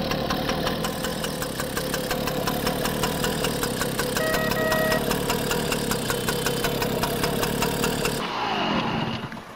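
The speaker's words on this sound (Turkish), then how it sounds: "Öyle bir marş bastım, sesi hoşuma gitti." A vehicle engine in Farming Simulator 22 runs steadily at a loud, close idle with a knocking, rumbling tone and a constant mechanical drone, then cuts off abruptly near the end.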